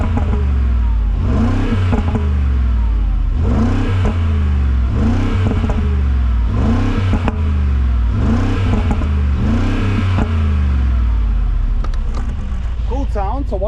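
A 2026 Mercedes G63 AMG facelift with a 4-liter twin-turbo V8 rumbles loudly and continuously at the exhaust, a deep pulsing drone with a voice talking over it.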